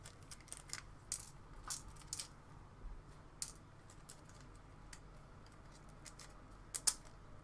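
Small FP screws for a Routemaster bus model kit being handled, with light metallic clicks and taps scattered irregularly and faint against a quiet room.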